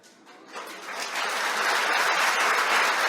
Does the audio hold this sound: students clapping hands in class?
yes